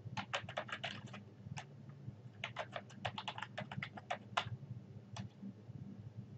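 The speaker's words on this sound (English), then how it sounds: "I type cleaning up garbage in the search box, and then I push enter on the keyboard." Typing a search phrase on a computer keyboard: quick bursts of crisp, close key clicks with short pauses between words, fairly quiet and with no talking.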